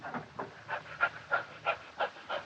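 A man breathes hard in rapid, rhythmic heavy gasps, about eight close panting breaths in a row, near and fairly loud, in a 1941 comedy film with no talking over them.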